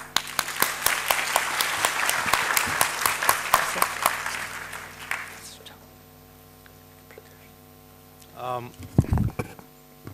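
Conference audience applauding a plenary speaker at an international academic meeting, a loud, steady round of clapping that fades out after about five seconds, followed by room hum and a speaker starting to talk.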